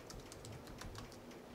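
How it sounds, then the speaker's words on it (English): Rapid keystrokes on a computer keyboard, a quick run of light clicks heard faintly over steady background hiss, with no talking. "So let's say I just wanted to type function."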